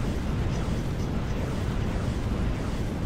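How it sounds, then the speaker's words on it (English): Mortar shells rain down in the naval combat game From The Depths, a dense continuous rumble of explosions blending into one loud, roaring wash with no pauses. "Mortars coming down then."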